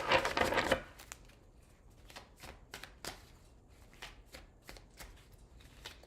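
Tarot cards being shuffled: a dense riffle at the start, then a series of soft, separate card slaps and flicks at an uneven pace, close and fairly quiet.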